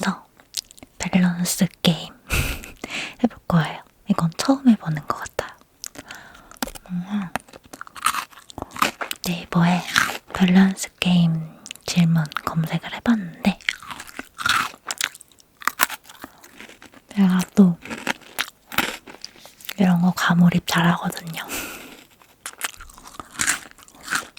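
Pepero chocolate-coated biscuit sticks being bitten and chewed close to the mic, crisp crunches recurring in bursts between soft whispered talk.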